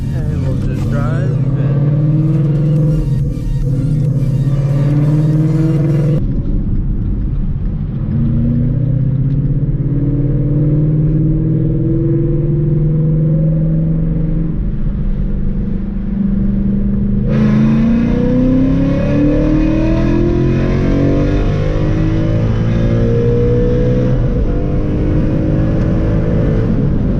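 A car with a PMAS tune drives and accelerates, its engine loud and close throughout with rising revs, a gear change near the midpoint and a brighter surge of acceleration toward the end.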